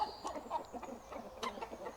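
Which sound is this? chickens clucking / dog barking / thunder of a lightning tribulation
chickens clucking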